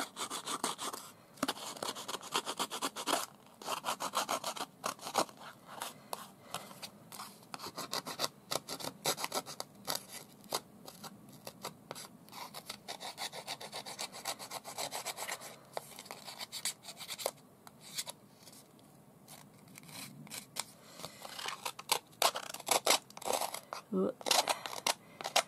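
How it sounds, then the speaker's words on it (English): Scissors snip and rasp through material in dense, irregular bursts close up, mixed with rubbing and scratching handling noise for the whole stretch, with a little background voice. "Use the scissors very carefully."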